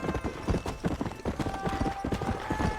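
Steady clip-clop of horse hooves from the video game Red Dead Redemption, a brisk rhythmic gallop with several close impacts overlapping, while faint tonal game sounds run beneath.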